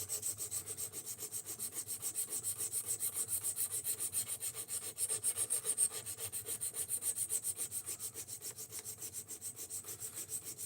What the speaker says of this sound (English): Yes, we are sharpening the knife.